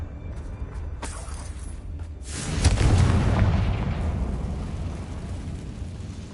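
A spell-triggered explosion in a video game erupts with a heavy, loud boom that swells and rolls into a long rumbling tail, alone without talk.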